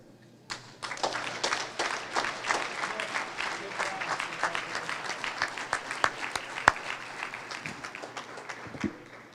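An audience at a school board meeting claps for student scholars: scattered individual claps start things off, then thicken into a lively, uneven round with sharp close hand strikes standing out, before thinning toward the end.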